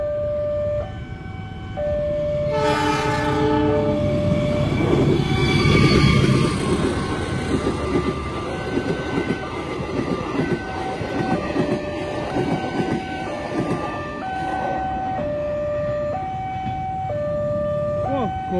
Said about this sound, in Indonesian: Baru berangkat Surabaya Pasar Turi langsung ngebut, teman-teman.